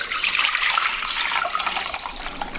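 Cold brew coffee pours steadily into a measuring cup, a continuous close splashing trickle that runs loud throughout and eases slightly toward the end.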